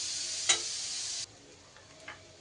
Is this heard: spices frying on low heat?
yes